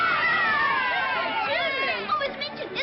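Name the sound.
crowd cheering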